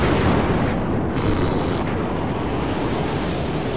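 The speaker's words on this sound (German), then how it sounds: "Hört der auch mal auf, der Sturm?" Loud, steady storm wind roars across the whole stretch in the Mad Max video game, a broad continuous rush with a brief brighter gust near the middle; no talking.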